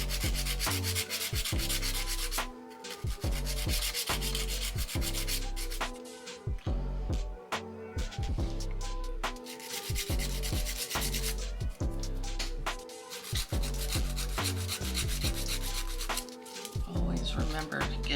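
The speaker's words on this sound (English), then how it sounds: "switch to an 8080 grit file just because it's going to be faster for me" An 80 grit nail file scrapes across polygel nails in quick, repeated rubbing strokes with brief pauses between bursts, and the strokes sound close and fairly loud.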